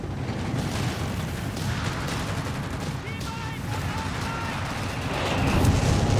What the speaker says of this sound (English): Mass artillery strike here